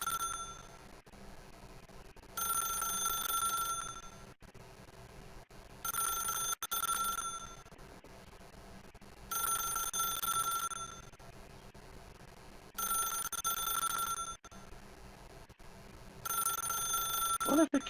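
A telephone rings in The Stanley Parable, loud repeated bursts of bell-like trilling about every three to four seconds, with quiet gaps between rings and no voices.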